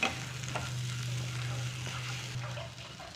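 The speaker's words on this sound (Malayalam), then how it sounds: "എല്ലാം കൂടി നന്നായിട്ടൊന്ന് മിക്സ് ചെയ്ത് കൊടുക്കാം." Potato and tomato masala for a Kerala potato mappas curry sautéed and stirred in a pan, giving a constant close sizzle under steady scraping of the spoon.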